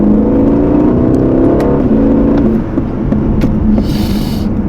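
An Aston Martin DB12 accelerating hard in manual mode, its engine rising loudly in pitch through the gears with a shift and rushing road and wind noise, heard from inside the car.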